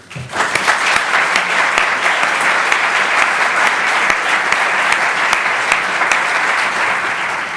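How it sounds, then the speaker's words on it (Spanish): A lecture audience applauds steadily to welcome Dr. Álvaro de Rújula, a dense, even roar of many clapping hands that holds at full strength for several seconds with no voices over it. "para quien pido un aplauso de bienvenida"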